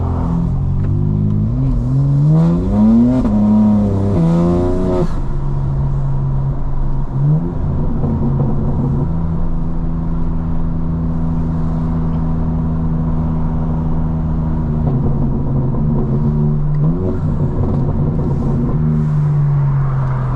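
A 2025 BMW M4 Competition xDrive engine and exhaust loudly close up, rising and falling through revs early on, then a steady low drone with occasional swells, with no talking.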